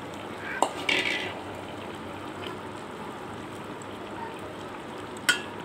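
Fried fish is tipped into a curry pan over a low simmering hiss, with a utensil clink at the start, a short scraping stir, and another clink near the end.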